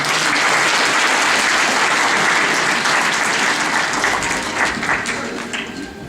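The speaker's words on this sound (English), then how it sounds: "give a round of applause to our guest speaker, Mr. Mike Schiff." Loud, sustained applause from a graduation ceremony audience, dense clapping that holds strong and then tapers slightly toward the end.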